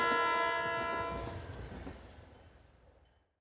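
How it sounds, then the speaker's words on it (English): A train passing through Georgetown on its way toward New York sounds a long loud horn, then rumbles away and fades to silence. "Oh, it's 10:15. There goes the train."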